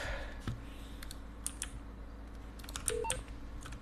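Phone dialing in GTA V gives short electronic keypad tones and clicks in a quick, uneven sequence over low game background noise, clustered near the end.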